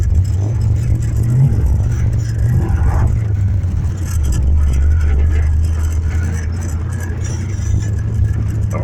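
A car drives on a private street with a loud, steady low engine rumble close by that rises and falls slightly, with no one talking.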